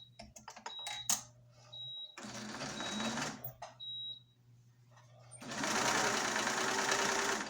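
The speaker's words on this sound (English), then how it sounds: "And I'm sewing a 1/4 inch seam allowance." A sewing machine stitches a quarter-inch seam on a throw pillow in bursts of rapid mechanical whirring, with short loud runs separated by pauses and small clicks, close up.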